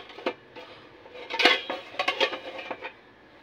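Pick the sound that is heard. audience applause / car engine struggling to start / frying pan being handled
frying pan being handled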